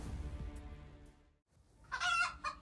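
Chickens under threat from a cat give clucking, agitated calls, a burst of bright fowl vocalizations rising near the end after quieter low rustling and a brief pause; no talk.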